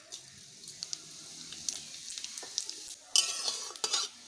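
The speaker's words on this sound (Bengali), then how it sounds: "তেজপাতার সাথে গোটা জিরেও ভালো মতো ভেজে নেব" Bay leaves and whole cumin seeds crackle in hot oil in a kadai, a steady soft sizzle with occasional spoon stirs and scrapes, growing louder and busier toward the end.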